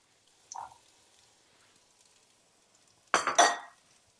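Onions and fennel tumble into an oiled pan, giving a short burst of hissing, clattering sizzle after a brief knock and a stretch of near quiet.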